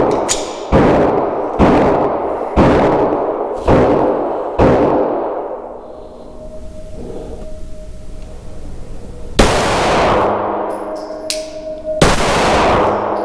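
A Shadow Systems MR920 Elite pistol fires at a target seven yards away. Sharp loud shots come in a quick evenly spaced string of five, then a pause, then further shots, each with a ringing decay.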